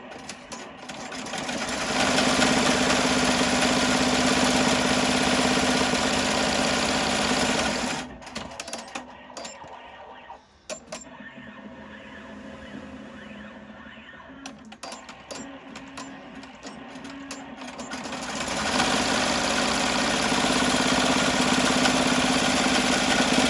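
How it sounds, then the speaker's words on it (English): Embroidery sewing machine stitching to tack down a ribbon nest in the hoop of a face mask, a steady fast mechanical whirring hum that pauses midway with clicks and handling, then resumes. "So it's going to tack down the ribbon nest."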